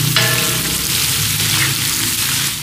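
Chicken gizzards fry with garlic-ginger paste and salt in a hot karahi, giving a steady, close, loud sizzle that fills the whole stretch with no talk over it.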